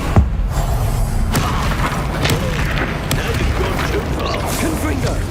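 Incendio fire spell cast in Hogwarts Legacy, a sustained loud whooshing roar of flame with a few sharp bursts and booming cracks scattered through it.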